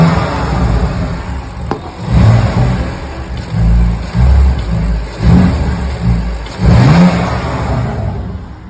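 A car with a stage 1 remap and changed exhaust tips revs repeatedly in several loud, rising bursts that fall back to a rumbling idle between them, close to the microphone with no talk.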